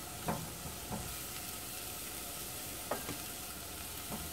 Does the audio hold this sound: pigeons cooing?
no